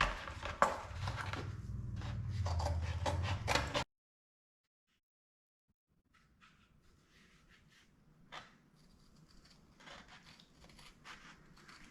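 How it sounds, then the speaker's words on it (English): Crisp snips of dull scissors crunch through tough rubber in quick bursts, then silence, followed by fainter, sparser cutting sounds. "See if these dull scissors will work."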